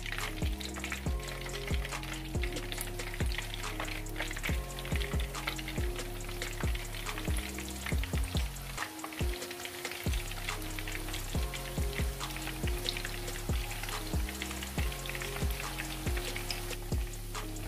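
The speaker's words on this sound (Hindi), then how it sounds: "अब हम इसी तरह से वो दूसरे भी थोड़े से फ्राई कर लेंगे" Mutton kofta frying in hot oil gives a dense, steady crackling sizzle throughout, with a brief dip in the middle before it resumes at full strength.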